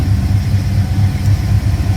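1995 Ford engine idling just under 1,000 RPM, a loud, steady low rumble with an even pulsing throb, close and continuous without talk.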